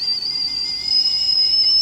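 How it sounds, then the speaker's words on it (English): A kettle whistles with a steady, piercing high tone that holds without a break. "Kettle's whistling"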